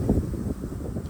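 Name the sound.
wind blowing on microphone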